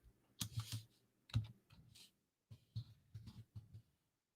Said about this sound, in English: Oh, I'm not typing it right.